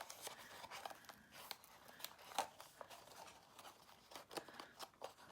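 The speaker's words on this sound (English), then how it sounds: "I still haven't trimmed my ribbon" Scissors trim a ribbon tied around a small acetate box, making a few faint, quick snips and light crinkles spread through a quiet stretch.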